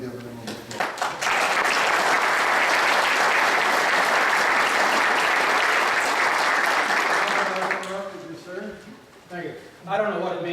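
A Masonic lodge audience at a school awards evening applauds the Deputy Grand Master, a sustained burst of clapping after a brief spoken lead-in, fading to someone speaking at the end.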